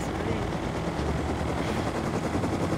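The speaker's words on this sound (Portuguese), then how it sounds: "o cara vai vir de helicóptero aqui" A helicopter arrives in the video game Rust, its steady rotor chop and engine drone loud and continuous without a break.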